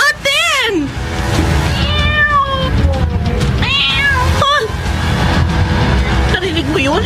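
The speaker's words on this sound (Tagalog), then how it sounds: "May pusa yatang nakapasok sa bahay natin, Pepay." A cat meows repeatedly inside a house in a Filipino horror radio drama, loud rising and falling yowls spread across several seconds over a constant background bed.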